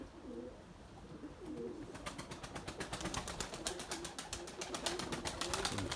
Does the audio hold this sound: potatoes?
no